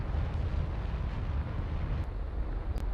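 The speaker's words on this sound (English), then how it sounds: "Just rocket burning." A rocket engine burning in a space flight video game: a continuous, heavy, rumbling roar that holds steady and loud throughout, with no pauses and no voices.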